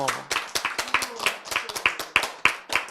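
A person claps hands in a steady rhythm, about a dozen sharp claps in under three seconds, close and clear under light talk.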